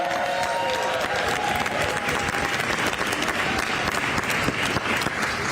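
A large audience applauds legislators at the signing of a Washington millionaires tax bill, with dense, steady clapping that fills the room evenly at close range, along with a few faint cheers.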